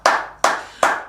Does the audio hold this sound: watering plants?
no